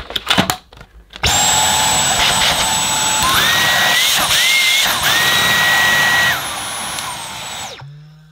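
A CompuCleaner Xpert electric air duster whirs up after a few clicks and blows in a loud, steady high-pitched whine that shifts in pitch as the speed changes, then winds down and stops.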